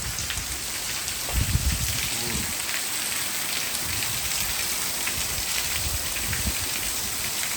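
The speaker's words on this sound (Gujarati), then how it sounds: "સાવરકુંડલામાં વરસાદ ચાલુ થયો છે." First rain of the season falling steadily in Savarkundla, a dense even patter of drops on surfaces with a brief heavier thud early on, no voices.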